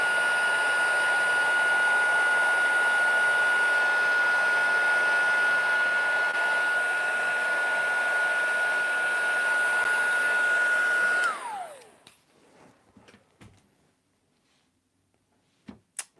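A handheld heat tool blows steadily for about eleven seconds, drying and heat-setting ink and remelting embossing powder on a holiday card, its constant whining whoosh up close before it switches off and winds down, followed by a few small clicks and handling taps.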